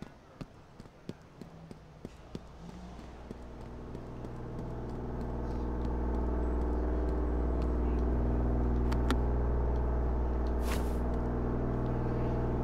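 Car engine in the police-simulation video game Flashing Lights, starting after a few light footstep taps and building into a steady low droning rumble that holds loud and continuous while the vehicle drives.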